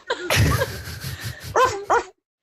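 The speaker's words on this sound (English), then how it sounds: "there's the dog" A dog gives a short run of rough, close barks and yips, loud and fairly quick, ending in two sharper yelps before going quiet.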